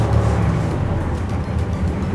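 DAF CF 450 tipper truck diesel engine pulling away on a hill start, a loud, steady low rumble with slight surges in revs, heard from inside the cab.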